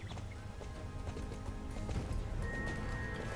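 Steady clip-clop of horse hooves trotting in the video game Star Stable, an even rhythm over a dense, constant musical background.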